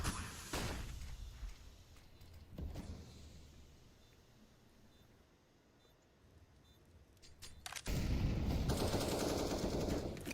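Gunfire and grenade blasts during a competitive Counter-Strike match, sharp shots early, a quieter lull in the middle, then a sustained loud burst of explosive noise toward the end.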